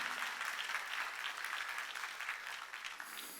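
A church congregation claps steadily in a dense wash of applause that holds at an even level throughout.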